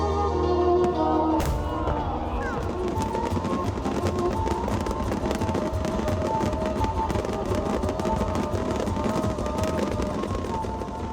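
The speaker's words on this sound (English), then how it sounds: "3 countries competing over 3 evenings of mind-blowing firework displays" Continuous crackling and popping of a fireworks display synchronized with music in Vancouver, dense and steady throughout, with sharp bangs layered over a rumbling background and no clear voices.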